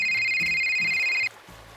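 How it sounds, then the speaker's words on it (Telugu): A phone rings with a bright electronic tone, a short steady ring that cuts off abruptly after about a second, leaving a low background. "నీ ఫోన్ మోగుతోంది,"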